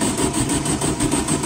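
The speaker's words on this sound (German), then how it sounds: "ihr hört, der Käfer schnurrt" A VW Beetle engine, just fired up, running with a steady, rough, chugging idle at close range, loud and continuous with a faint rhythmic pulsing and no voices.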